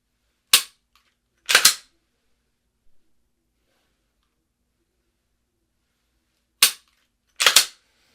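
Handgun shots fired quickly at three or more targets come in two sharp bursts, a single shot and a quick double, then a long quiet gap before another shot and double. The reports are loud, close and dry, with no talk.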